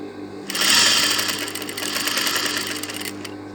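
A sewing machine fitted with a zipper foot stitches a shirt. It runs in one steady, close mechanical whir for about three seconds and then stops.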